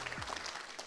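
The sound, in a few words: audience applause at award ceremony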